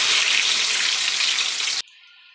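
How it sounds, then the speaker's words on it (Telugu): Chopped onions fry in oil with mustard seeds, cumin and a pinch of fenugreek, giving a loud, steady close sizzle that cuts off abruptly near the end, leaving only faint residual tones. "ఉల్లిపాయలు వేగాయి కదా."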